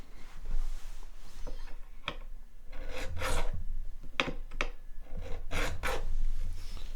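A metal file rasps across a guitar fretboard during fret preparation, several close, distinct back-and-forth swipes in short bursts with brief pauses between strokes, no talking.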